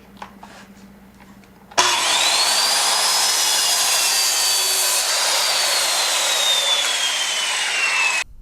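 A circular saw rips a board along a rip jig, starting abruptly and then holding a loud, steady high whine through the cut before stopping sharply.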